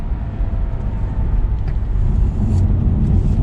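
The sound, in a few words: 2022 Lexus IS300 driving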